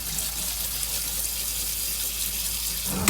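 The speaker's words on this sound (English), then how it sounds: "I'm going to rinse it with some cool water so that it stops from cooking" Cool tap water runs steadily from a kitchen faucet over cooked rice and lima beans in a sink, a continuous close hiss with a brief louder splash at the very end.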